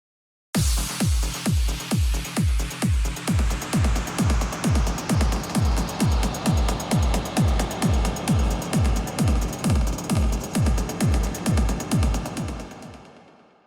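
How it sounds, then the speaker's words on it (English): Echo-with-reverb effect on a rotary DJ mixer colors a loud, steady four-on-the-floor beat, each hit smeared into a lingering wash of repeats that fades out at the end, with no one talking. "Echo verb, which is echo with reverb."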